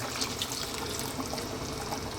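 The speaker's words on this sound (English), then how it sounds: "A little bit more water in there." Water pours into a pot of simmering chicken curry, a steady continuous splashing trickle with a soft hiss throughout, close and even in level, with nobody speaking.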